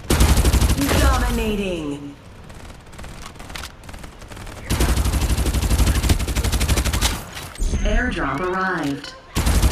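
Gunfire in the Farlight battle royale game, rapid automatic bursts rattling loudly through most of the stretch, mixed with game announcer voices and speech.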